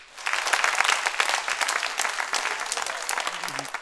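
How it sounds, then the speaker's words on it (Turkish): Loud, sustained applause from a large audience, steady clapping throughout with a brief low voice near the end. "büyük bir alkış istiyorum sizlerden"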